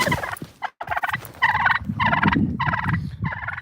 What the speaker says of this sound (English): My turkeys are attacking me.